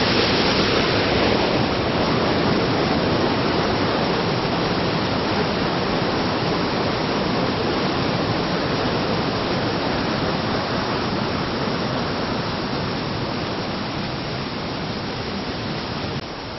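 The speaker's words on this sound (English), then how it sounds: "This is the second stream coming from the springs up above Edessa, and the water flow is constant even in the dry time of summer." Spring-fed stream and waterfall at Edessa, Greece, a constant loud roar of rushing water, broad and unbroken, very close and with no voices.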